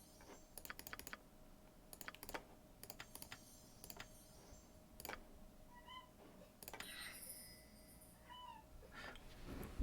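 A pet cat meows a few times close by amid steady keyboard typing and clicks, the short cries standing out over a quiet background.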